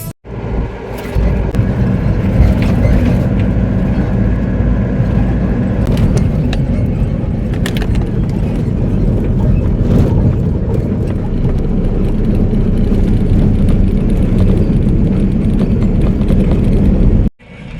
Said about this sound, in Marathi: गाईज माणगावला आपलं ट्रॅफिक भेटलंय फायनली.